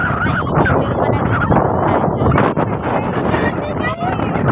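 Strong wind buffets the microphone high on the 17th floor of a building, a steady loud broadband roar with gusting swells, while people talk faintly underneath.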